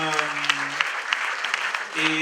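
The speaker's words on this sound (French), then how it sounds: "Je vous demande d'applaudir les intervenants de la deuxième table" An audience at a conference round table applauds in a dense, steady burst of clapping, with a voice talking just before and after.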